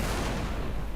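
A tank cannon fires in Total Tank Simulator, a loud, dense, booming blast that fills the whole brief moment with a heavy low rumble.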